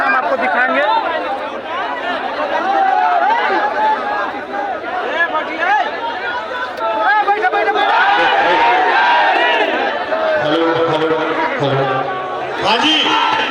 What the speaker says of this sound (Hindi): यहाँ काफ़ी ज़्यादा भीड़ है